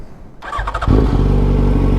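A Yamaha FZ1 motorcycle engine barks to life and settles into a loud, deep, rumbling idle with a throaty Two Brothers aftermarket exhaust tone, close by.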